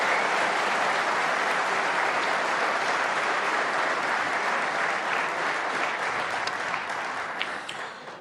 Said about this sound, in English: there was a big wave of applause on the other table